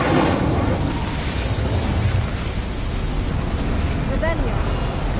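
Incendio fire spell cast in the Hogwarts Legacy video game, a loud, dense whooshing burst of flame that fills the whole stretch with a steady roar and a brief chirp near the end.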